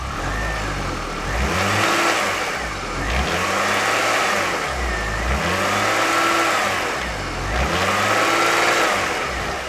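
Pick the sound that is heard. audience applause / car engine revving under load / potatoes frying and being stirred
car engine revving under load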